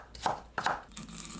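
Two crisp knife strokes on a cutting board as carrots are finely julienned, each chop a sharp close thud, followed by a softer scrape.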